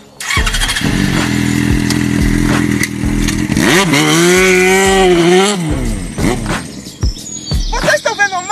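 A motorcycle engine revs up and holds a rising, steady tone for a couple of seconds before dropping away, loud and close, amid lively voices talking over it.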